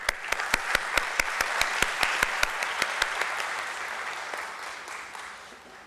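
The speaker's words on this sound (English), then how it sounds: "Request you all to applause." Guests at a Bombay Stock Exchange listing ceremony applaud with moderate, steady clapping, while a few sharp, evenly spaced hand claps stand out near the front before the applause slowly fades.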